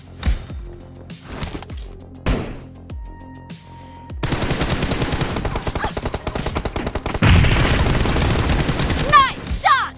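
Video game gunfire from AKM and M416 rifles: a few single heavy shots, then long loud full-auto bursts at close range, with in-game voice callouts mixed in.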